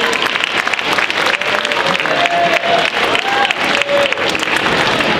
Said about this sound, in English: get a nice round of applause